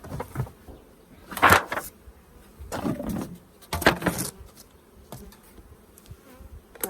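Bees buzzing around a heavy, bee-packed hive as it is lifted and carried away during a hive transfer, with a steady drone broken by louder swells and thuds at intervals.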